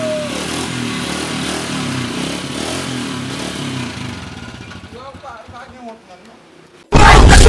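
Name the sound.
motorcycle engine revving at mechanic's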